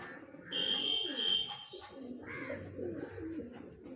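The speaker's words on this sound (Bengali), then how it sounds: "এটা হচ্ছে একটি লালি ব্রিডের পায়রা" A Lali breed pigeon coos in repeated low, throaty rolls at close range, with a thin steady high tone briefly running alongside and no talking.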